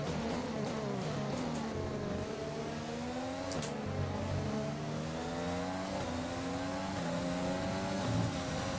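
F1 2020 Formula 1 car at the British Grand Prix accelerates back to racing speed, its high engine whine climbing steadily through gear changes, loud and continuous with no talk.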